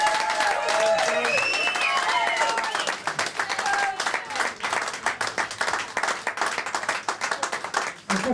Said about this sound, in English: So can you just give Josie a massive round of applause?